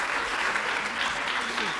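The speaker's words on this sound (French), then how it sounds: "Encore des applaudissements" Sustained audience applause at a departmental day event on illiteracy in the Ardennes, a dense steady wash of many hands clapping, fairly loud and continuous with faint voices mixed in.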